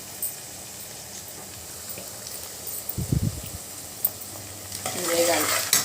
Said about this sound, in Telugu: ఇవి వేగాలండి. కొంచెం గోల్డ్ కలర్ వచ్చినాయి చూడండి.